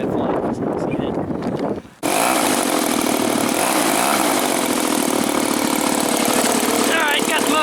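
Seagull Models RV-8 model airplane engine running loud and close: a rough burst cuts briefly, then a steady, high, buzzing roar holds throughout.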